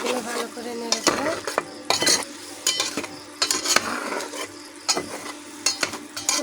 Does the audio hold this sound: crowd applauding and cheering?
no